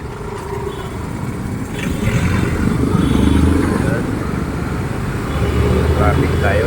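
Road traffic on De La Costa in Makati, with engines and motorcycles rumbling close by in a steady low drone that rises and falls, on a wet, slippery street.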